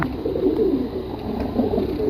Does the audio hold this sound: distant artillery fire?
no